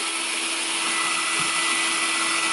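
A compact vacuum cleaner running with its HEPA filter off, giving a loud, steady high-pitched whine with a constant motor drone throughout and no talk.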